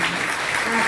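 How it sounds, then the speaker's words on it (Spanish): Applause at a baby shower gathering, a short burst of steady clapping from a group, with a voice faintly underneath. "Un aplauso."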